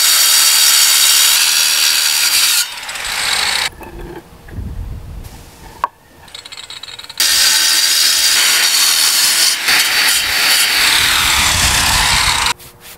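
A paving stone for a stone terrace is cut with a power saw, giving a loud, harsh grinding roar in two long bursts separated by quieter handling noises, with no talking.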